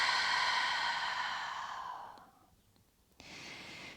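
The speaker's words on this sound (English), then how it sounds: "And then exhaling fully." A long, full exhale at the close of a calm yoga breathing round, a soft breathy rush that fades out over two seconds, then a short pause before another gentle breath begins; near and quiet, no speech.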